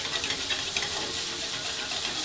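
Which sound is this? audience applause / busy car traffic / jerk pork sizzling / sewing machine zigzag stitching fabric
jerk pork sizzling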